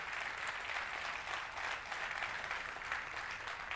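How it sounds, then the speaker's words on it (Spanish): An audience at a Spanish-language church sermon claps in a steady, dense patter that sounds faint and somewhat distant, continuous for a few seconds with no speech over it. "denme un aplauso"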